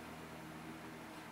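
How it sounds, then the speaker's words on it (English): Electric fan running in a warm room, giving a steady, faint broadband whoosh with a low hum that holds even and constant throughout, with no voices. "I've just got the fan going because it's quite warm in here."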